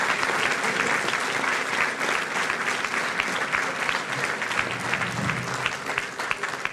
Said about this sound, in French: Je pense qu'on peut les applaudir tout particulièrement.